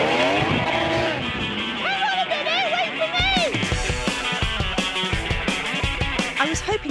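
A Formula One racing hovercraft runs at full throttle in a one-on-one race, a loud continuous engine roar with shifting whine and rising pitch sweeps, with voices talking over it.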